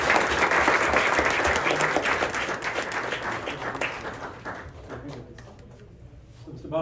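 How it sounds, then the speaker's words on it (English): Audience applause from a gathered crowd at an award-style event, dense clapping loud at first then gradually thinning and fading toward the end. "Let's give an applause for their service."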